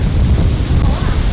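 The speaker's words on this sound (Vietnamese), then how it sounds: "Gió to lắm." Strong wind buffeting the microphone outdoors before rain, a loud continuous low rumble with gusty roughness throughout the brief stretch.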